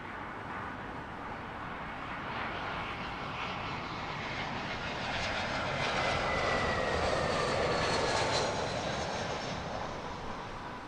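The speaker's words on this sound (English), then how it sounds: "I can hear a twin prop over to my left that's already taxiing for departure using this southern runway." A twin-propeller aircraft taxis for departure on the southern runway at Heathrow, heard as a steady, broadband engine roar with a faint whine that swells slightly midway, moderately distant, with no talk.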